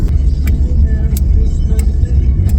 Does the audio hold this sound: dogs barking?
no